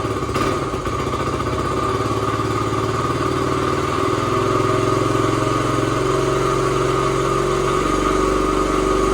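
A Honda CT90 motorcycle started cold with a single kick runs on its single-cylinder engine, with a steady, close, continuous putter and rattle that holds up without dying, no talking.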